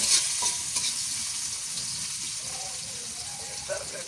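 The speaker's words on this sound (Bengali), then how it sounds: "এখানে মাছ ভাজি করে নেবো, তার জন্য তেল দিলাম আমি" Fish frying in plenty of oil in a pan for a potato-cauliflower fish curry, a steady hiss of sizzling with occasional light clinks, moderately quiet and close.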